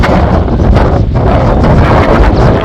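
Wind buffets the microphone outdoors during a roe buck stalk in the British summer, a loud continuous rumbling roar that fills the whole stretch without pause.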